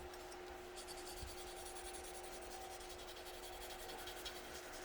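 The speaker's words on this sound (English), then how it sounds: "Sanding sticks are an incredibly useful tool." A 6000-grit sanding stick rubs across a Tamiya Mazda RX-7 R1 model car body, making a faint, steady scratching of close, repeated strokes with no voices.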